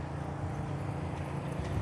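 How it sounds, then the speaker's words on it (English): Horse moving around beside a 2024 Cimarron Norstar four-horse living-quarters trailer, with low hoof clops and shuffling steps close by, steady throughout and with no talk over it. "We'll turn our horse loose."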